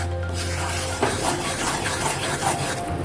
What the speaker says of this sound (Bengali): এটা আমি নাড়ছি আস্তে আস্তে, একদম কম আছে, নাড়তে হবে।